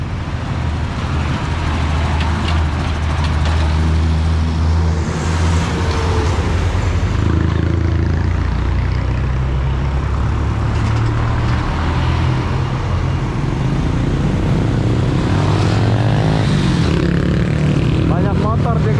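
Busy roadside traffic in Kajang, with motorcycles and an old lorry rumbling past, loud and close, engine drones rising and falling continuously under the street noise.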